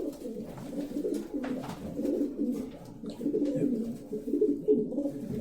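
A racing pigeon in a loft gives low, repeated throaty coos in a steady rolling rhythm, close and moderately loud, with faint rustles and a few soft sounds in the background.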